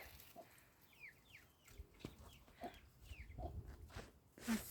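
A broody hen clucks low and steadily while chicks peep in short, high chirps around her outdoors, all fairly quiet with some light background rustle.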